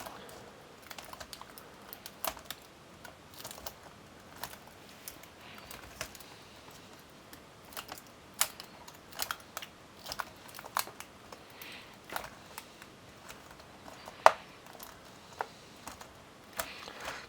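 A Dell Latitude 7390 laptop keyboard is pressed into place in its chassis, giving a scattered series of small, close plastic clicks and snaps at irregular intervals over a quiet background.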